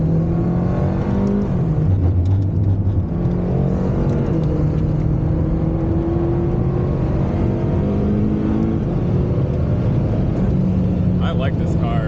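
A McLaren Speedtail on a race track, its engine droning and rising steadily through acceleration, loud and continuous, with a voice talking over it throughout.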